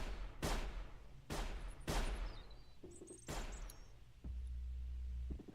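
Distant gunfire in the game Sir, You Are Being Hunted: four or five sharp, spaced shots with echoing tails, moderately loud, followed by a low rumble and faint incidental sounds.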